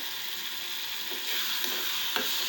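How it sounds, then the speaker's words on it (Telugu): Tomatoes fry in a pan for a fish curry, a close continuous hiss and crackle that swells slightly midway, with a couple of faint clicks and no speech. "ఇప్పుడు టమాటా వేగుంటుందండి"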